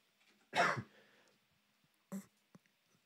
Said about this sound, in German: Moment, muss husten.